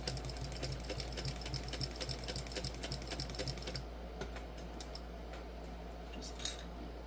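A sewing machine stitches the zipper box of a crossbody bag at a shortened stitch length, running in a quick, even rattle of needle strokes that slows and stops near the end, faint and alone.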